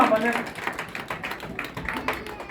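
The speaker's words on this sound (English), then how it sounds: "Let's clap more hands for her." A church congregation claps hands for a woman who has just sat down, a busy patter of hand claps spread across the room with voices mixed in throughout.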